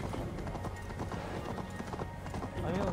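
Horse hooves clip-clop at a steady trot in Assassin's Creed Valhalla, moderately loud over a busy game background.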